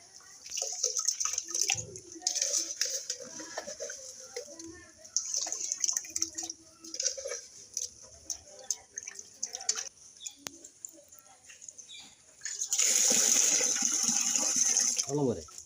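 Water poured into a fish tank: scattered drips and trickles build to a louder, steady splashing pour near the end, with a faint voice in the background.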